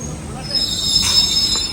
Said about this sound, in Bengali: আর এদিকে ঢুকে গেছে ট্রেন